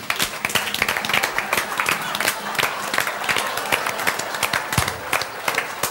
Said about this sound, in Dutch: mag ik een groot applaus voor mijn eigen assistente, Natasja